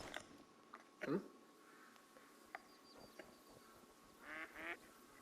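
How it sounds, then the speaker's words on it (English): Ducks quacking in a hunting video game, a few faint distant quacks scattered over a quiet outdoor ambience with occasional soft clicks, with talk around them. "Oh, the ducks."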